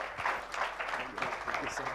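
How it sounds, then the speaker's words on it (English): An audience claps in a steady round of applause at a global CEO summit hall, moderately loud and continuous with a voice faintly heard through it. "Let's give them a wonderful round of applause."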